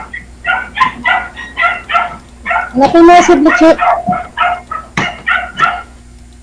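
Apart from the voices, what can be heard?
many dogs barking and yipping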